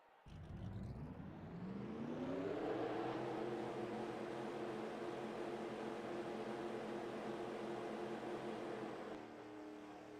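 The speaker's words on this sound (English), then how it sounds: "Drivers, start your engines!" A pack of stock car engines fire up together at Daytona and settle into a loud, steady, droning roar that fills the air.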